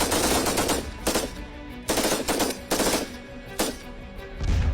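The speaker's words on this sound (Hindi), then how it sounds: "तड़ातड़ फायरिंग हो रही है" Machine guns fire bursts of rapid shots during an Indian Army exercise, several loud, sharp volleys separated by short gaps, with no speech.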